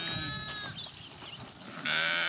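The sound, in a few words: sheep bleating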